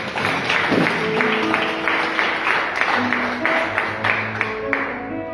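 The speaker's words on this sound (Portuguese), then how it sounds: "dê uma linda salva de palmas ao Senhor." A church congregation gives a round of applause during a service, steady dense clapping over about five seconds, with a sustained musical tone and some voices underneath.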